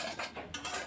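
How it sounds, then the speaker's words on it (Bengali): Coarse semolina is stirred and dry-roasted in a pan, with short scraping strokes of a utensil against the metal in a quick, close rhythm. "তো সুজিটাকে আমি ভালোভাবে নেড়েচেড়ে ভেজে নেব"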